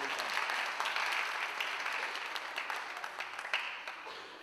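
Sustained applause from a high school audience at a graduation-season reflections ceremony, steady dense clapping that fades slightly toward the end, no voices over it.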